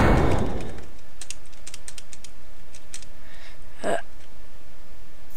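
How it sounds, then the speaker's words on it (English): Rapid bursts of computer keyboard keys being spammed, clattering quick taps in clusters, alone and fairly close. "No, spam keys"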